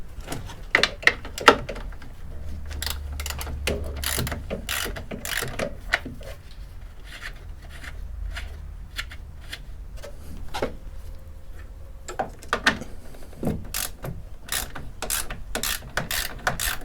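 A ratchet clicks in quick repeated bursts while loosening fasteners on a Peugeot 205 GTI engine, close and crisp, with short pauses between runs of ratcheting.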